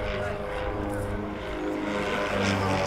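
A flying display by a local ex-fighter pilot at the Nordkapp Challenge: a steady aircraft engine drone that stays fairly constant throughout, with no clear rise or fall, and talk faintly beneath it.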